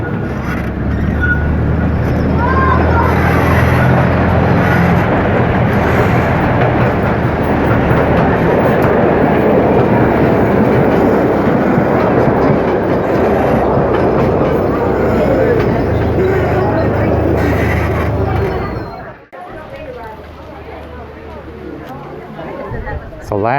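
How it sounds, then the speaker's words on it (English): A long train rolls past on the tracks along a scenic mountain byway, a loud, sustained rumble with rattling wheels that drops off abruptly near the end, while people chatter over it. "It's the last train going on there right now."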